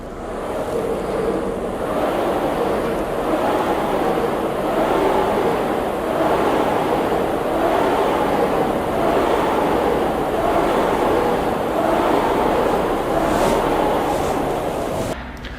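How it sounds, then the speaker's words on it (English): A Xebex air rowing machine is pulled in an all-out sprint, making loud, steady, rhythmic whooshes from the spinning fan flywheel, one surge per stroke, repeating without a break. "Now I'd like to up the intensity and try a little fast-paced rowing in the Xebex machine."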